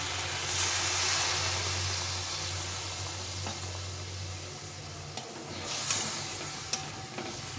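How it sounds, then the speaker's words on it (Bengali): Spice paste frying in a pan for a banana-flower kofta curry sizzles and hisses steadily, a near continuous fry with faint stirring scrapes and small clinks as a splash of water goes in. "মশলা থেকে তেল ছেড়ে দিয়েছে, এখন একটু সামান্য জল দিয়ে দিই।"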